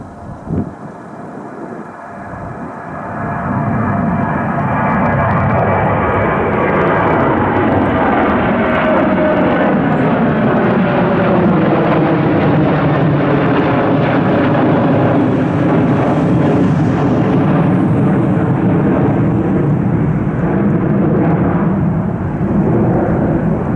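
A United airliner takes off from Cleveland's airport bound for Denver, its jet roar swelling to a loud, sustained rumble that holds steady and close for many seconds.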